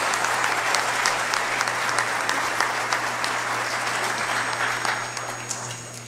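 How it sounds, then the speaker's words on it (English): Concert audience applauding at a Croatian tamburica and folk dance concert, sustained dense clapping from a large crowd that holds steady and tapers slightly at the end, with a faint steady hum beneath. "Please join us in giving them a round of applause for their invaluable contributions"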